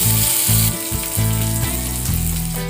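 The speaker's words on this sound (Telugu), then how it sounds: "ఇప్పుడు కర్రీ లీఫ్ యాడ్ చేసుకుందాం" Curry leaves hit hot oil with potatoes frying for a mushroom and potato curry, giving a steady, close sizzle that runs throughout over a low tonal background hum.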